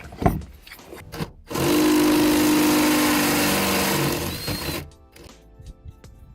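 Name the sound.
step drill bit drilling metal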